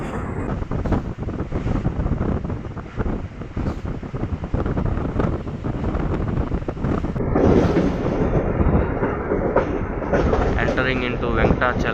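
Inside the carriage of the MGR Chennai Central MEMU Express, a loud continuous rumble and rattling clatter of the running train fills the space, with wind buffeting the microphone.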